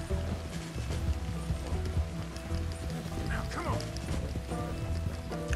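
Horse hooves clip-clopping in the video game Red Dead Redemption 2, a rhythmic trot heard under game music and a voice talking.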